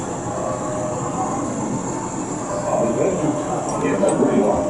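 A model train rolls through a miniature world display, a steady rumbling clatter of wheels that grows slightly louder toward the end, with faint squeals and voices in the background.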